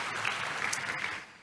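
A church congregation claps together in sustained, dense applause, moderately loud and steady before tapering off near the end, with no voices over it.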